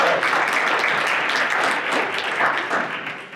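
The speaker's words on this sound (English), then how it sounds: "give him a round of applause" A crowd at a business networking mixer gives a brisk round of applause, many hands clapping together in a dense, fairly loud patter that tapers slightly toward the end.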